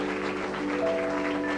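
Audience applause for a pianist at a comedy club show, steady dense clapping filling the room, with a faint sustained piano-like tone beneath.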